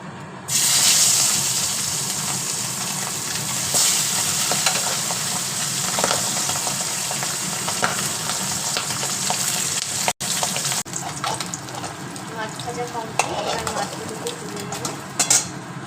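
Pabda fish frying in hot oil, close and loud: a strong, continuous crackling sizzle runs the whole time, with occasional utensil knocks and a brief dropout midway.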